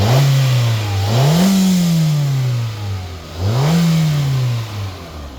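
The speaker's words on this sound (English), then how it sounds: "Engine sounds fine." A 2012 Hyundai Accent 1.6-litre engine is revved twice, each rev rising sharply in pitch then falling back toward idle, loud and close.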